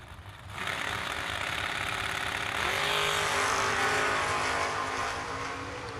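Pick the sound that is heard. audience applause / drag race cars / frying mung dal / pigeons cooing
drag race cars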